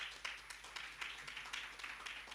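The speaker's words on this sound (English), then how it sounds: "Round of applause, please." Applause from an audience at an economic development fund report launch, a steady patter of many hands clapping at moderate distance for a couple of seconds before a keynote address.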